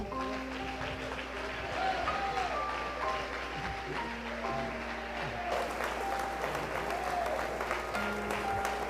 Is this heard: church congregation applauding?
yes